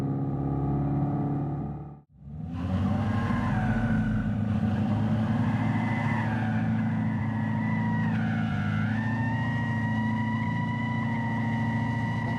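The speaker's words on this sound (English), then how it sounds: "At least they can do a burnout." A Dodge Charger EV doing a burnout gives a loud, sustained roaring engine-like drone, broken by a brief sharp drop near the start, then steady and close for the rest.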